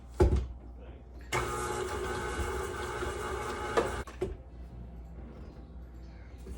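Stand mixer running on medium speed while mixing strawberry pretzel salad ingredients, a steady whirring motor hum that lasts a few seconds, framed by clatter and handling noises at the start and end.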